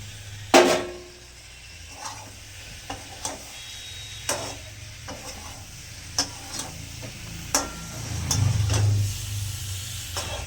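Potato and pointed gourd pieces frying in a spiced pan for a vegetarian curry: scattered sharp spatula knocks and stirring clicks over a low, steady sizzle and hum, with no voices.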